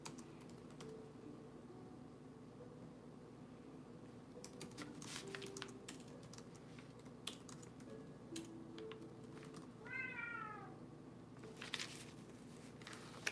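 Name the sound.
cat meowing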